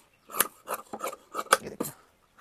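Scissors snip through cloth while cutting a katori blouse pattern, a run of about eight short, crisp rasping cuts in quick uneven rhythm, close and clear with brief pauses and no talking.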